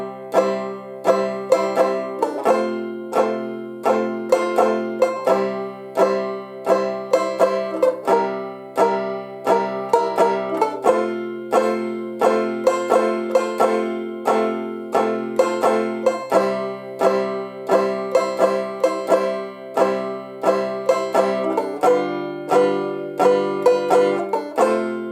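Tenor banjo strummed in a steady four-beat rhythm, its bright, twangy chords changing every few bars, close and alone throughout with no voices.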